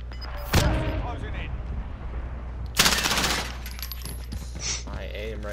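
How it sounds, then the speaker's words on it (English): Video game gunfire comes in two sharp, loud bursts of rapid shots a couple of seconds apart, with scattered smaller noises and people talking around them. "Somebody was shooting at him from inside."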